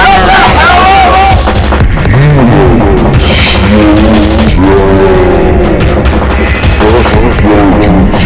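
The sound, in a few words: cars racing and crashing in a PS2 racing video game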